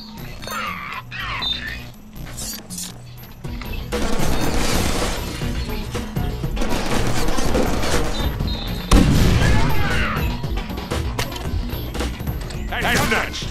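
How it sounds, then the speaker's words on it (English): Shotgun blasts and chaotic gunfire from the Deadpool video game, loud bursts with crashes and smashing debris layered over game music and voices, heaviest in the middle and near the end. "You know what? I want the shotguns."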